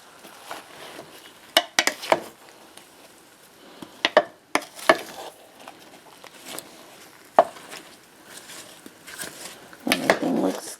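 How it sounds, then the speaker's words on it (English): A spoon stirring cooking apples in a crock pot, wet scraping and knocking strokes in irregular bursts, close by, with soft bubbling between strokes and no talking. "So we're just going to stir this around a little."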